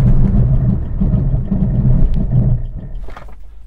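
A Suzuki Vitara SUV engine hums and whirs as it accelerates toward 100 km/h, a steady mid-range drone with road noise inside the cabin, easing off near the end.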